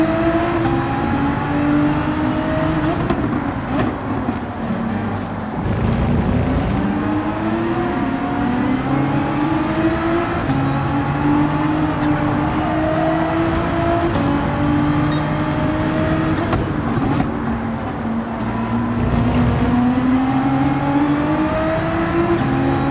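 Race car engine in Gran Turismo 7 at Interlagos, loud and continuous, its pitch sweeping up and down through repeated accelerations and gear shifts, with tyre squeal as the car slides near the limit of grip.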